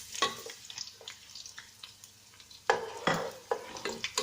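Onions go into a pan for a green-masala chicken curry and fry with a low crackle. Sharp spoon scrapes and stirring clatters, one louder burst partway through, sit close over the sizzle.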